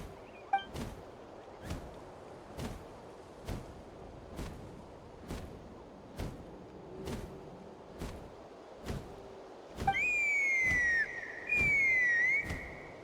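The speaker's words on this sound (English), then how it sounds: "That sounded like a whistle." In Genshin Impact, a high, sliding whistle rings out near the end, sustained and rising and falling, following a steady series of evenly spaced thumps.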